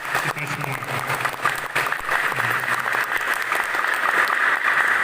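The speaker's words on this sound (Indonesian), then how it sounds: "Bisa tepuk tangan" Audience applause at a law faculty student community outreach event, a steady wash of clapping building slightly over a few seconds with a voice talking faintly underneath.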